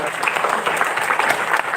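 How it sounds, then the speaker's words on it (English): An auditorium audience claps together for under two seconds, a dense, steady wash of hand claps at even loudness with no break. "Can you clap for yourself once?"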